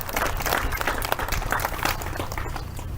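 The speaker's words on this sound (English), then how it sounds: "give her a round of applause" Audience at a county fair opening ceremony clapping in a dense, steady burst of applause that fills the whole stretch, fairly loud and even with no talk over it.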